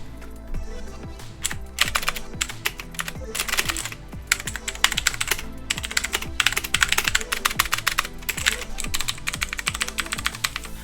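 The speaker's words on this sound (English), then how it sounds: "This is the Cherry MX Blue keyboard, which means it's super loud and clicky, and this is what it sounds like." Fast, steady typing on a Cherry MX Blue mechanical keyboard, its loud clicky switches rattling in dense, close bursts with sharp individual key clacks running continuously and uninterrupted.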